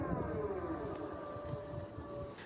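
An air raid siren sounds after a strike in wartime Ukraine, a wavering, slowly gliding tone heard at moderate distance over outdoor background noise, with no talk.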